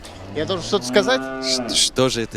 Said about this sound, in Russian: Каждый вечер коровы возвращались вдоль дворов.